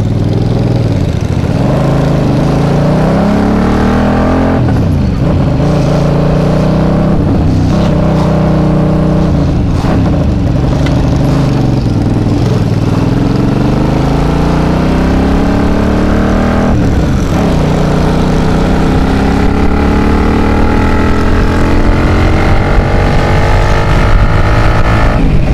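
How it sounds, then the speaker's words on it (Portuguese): A loud 2009 Mirage FI motorcycle engine running close by, its pitch rising and falling through several repeated revs over a steady idle. "essa é a moto do Fred."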